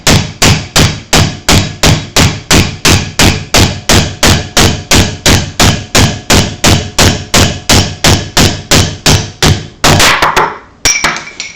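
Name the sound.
hammering wood stock through a dowel plate hole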